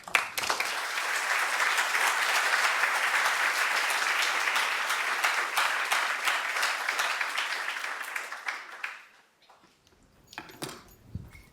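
A lecture audience breaks into sustained applause to welcome a speaker, a dense, steady clapping that fills the room for about nine seconds before thinning into a few last claps and small shuffling noises.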